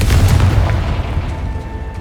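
A Confringo spell explosion in the Hogwarts Legacy video game lands as a loud, deep boom with a short rumbling tail that fades over about two seconds.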